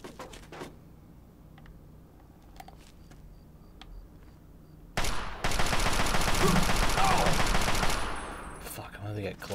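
Gunfire in Fallout 3 played on Xbox Series S: a few faint scattered pops, then a loud sustained automatic volley of about three seconds before it tapers off, with a voice present at times.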